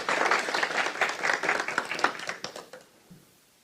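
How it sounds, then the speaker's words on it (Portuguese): Audience applause for the Kohathites at a church gathering: a sustained crowd of dense clapping, fairly loud at first, thinning and fading out over the last second. "Coatitas, aplausos aos coatitas."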